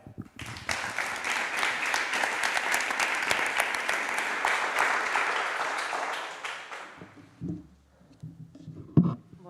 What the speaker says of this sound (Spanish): Así que, sin más dilación, un aplauso para Eva.